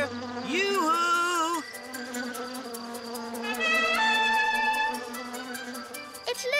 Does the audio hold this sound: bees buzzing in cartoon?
yes